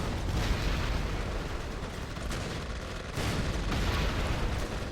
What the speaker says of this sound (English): Conscript firing.